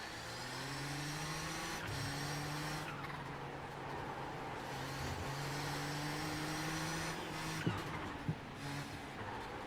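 Race car engines droning and shifting pitch in the iRacing sim during the IMSA Classic 500, a steady loud multi-car roar with harmonic engine tones rising and falling, a couple of sharp clicks near the end.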